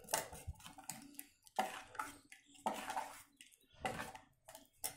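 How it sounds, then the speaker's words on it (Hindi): A spoon stirs mixed vegetable raita with asafoetida in a bowl, making soft, wet, rhythmic scraping and clinking strokes close by and fairly faint, with no voices. "सबको मिक्स करेंगे अच्छे से।"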